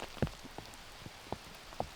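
Rain falls steadily on an outdoor disc golf course during a tournament round, a soft continuous patter with a few sharper drops landing close by.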